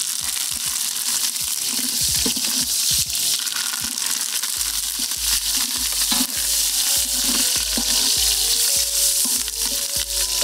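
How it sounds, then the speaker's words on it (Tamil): Curry leaves crackle and sizzle loudly in hot oil in a pot for Jaffna-style goat biryani, a steady frying hiss with bursts of popping and a few stirring scrapes throughout. "அடுத்ததாக கருவேப்பிலை போடுறோம்."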